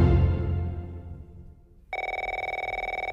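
Telephone bell rings steadily and loudly after a stretch of low rumbling fade, the ring starting about two seconds in and continuing in a rapid repeating trill at an office desk in Glasgow.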